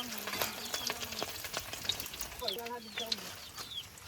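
Food sizzles as it is sautéed in a pot during a countryside visit, a soft continuous frying crackle with stirring scrapes, while people talk faintly and birds chirp in the background.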